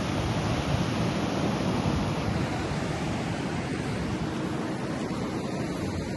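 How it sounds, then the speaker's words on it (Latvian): Sea waves breaking on a beach in Spain, a loud, steady wash of surf that rolls on continuously without pause. "Vienmēr nav tādi viļņi, parasti mierīgi, bet tagad tāds gada laiks"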